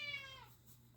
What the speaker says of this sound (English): Sorry for the cat.